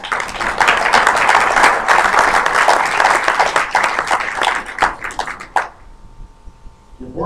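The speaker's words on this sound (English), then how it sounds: "let's give them applause." Sustained applause from a seated club luncheon audience in Edmonton, dense clapping for about five seconds that thins out and stops, leaving room tone and a faint hum.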